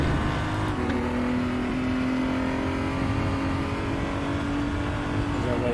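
A BMW M235i Racing car's engine in the RaceRoom racing game pulls hard under acceleration, a loud steady droning roar with a slowly rising pitch that fills the whole stretch.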